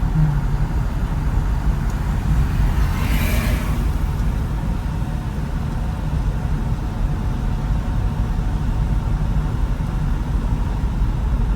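A driving school car moves at about 30, heard from inside as a steady low engine and road rumble with little change throughout.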